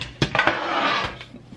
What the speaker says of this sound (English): cheap pan from the Dollar Tree